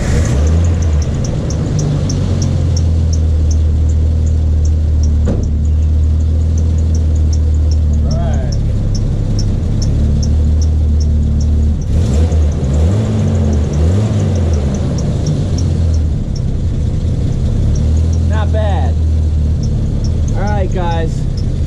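A Jeep Comanche pickup engine, freshly tuned up with its ignition wires redone, runs loud and steady close by, with a rough low idle and occasional revs. Voices talk over it now and then.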